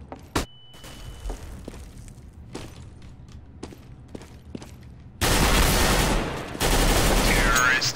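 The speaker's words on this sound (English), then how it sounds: "I'm throwing a flashbang" A flashbang grenade in a video game bursts into a loud, harsh wash of noise that fills the last few seconds, cutting out briefly and returning, after a stretch of quieter in-game footsteps and small clicks.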